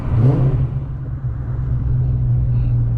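A 2003 Ford Mustang Cobra with a Terminator engine of over 500 hp is driven on a warm day in Georgia, its deep, steady engine rumble and road drone heard from inside the car, loud and constant.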